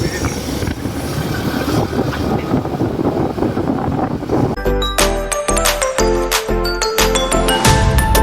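Strong wind gusts at a hilltop viewpoint near Tirupati roar across the microphone for about four seconds, loud and steady, before music takes over the rest of the clip.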